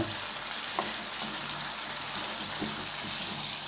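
Lemon rice tempering with lemon juice sizzles steadily in a pan, a close, continuous crackling hiss with a few faint clicks.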